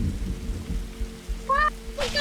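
Thunder rumbles low and heavy in the Roblox game 99 Nights in the Forest, with rain hissing underneath and brief voices talking near the end.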